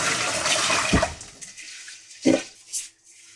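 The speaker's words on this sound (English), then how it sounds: "you fill in water." Tap water runs into a pot of rinsed rice, a close rushing pour that fades out, followed by two brief splashing sloshes in the pot.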